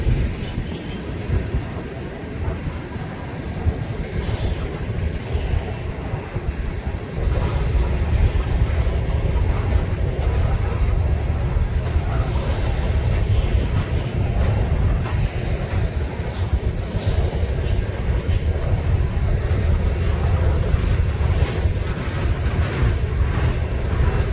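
A freight train with a few Cascade Green BN hopper cars rolls past at Galesburg, a steady, loud rumble and clatter of wheels on rail that holds for the whole span, with no voices.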